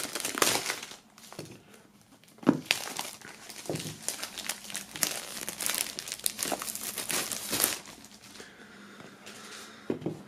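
Plastic shrink wrap is peeled and torn off a Gilmore Girls DVD box set, with close, busy crinkling and crackling, occasional tearing rips and light knocks against the box, no voices.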